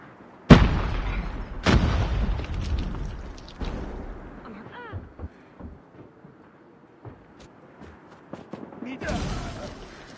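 Grenade blasts in a military shooter game: a sharp, loud explosion followed by a second heavy boom, then rumbling debris and scattered pops, ending with another burst near the close.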